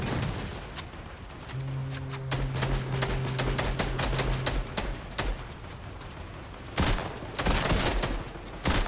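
Video game gunfire from Fortnite: bursts of rapid shots in uneven clusters, some sharp and close, others duller, with a brief electronic tone partway through and a loud final volley.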